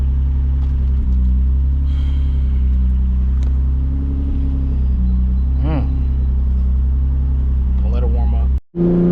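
A twin-turbo Nissan 350Z tuned past 500 wheel horsepower idles while warming up, giving a steady, loud low rumble throughout that cuts off abruptly near the end, with some speech-like sounds over it.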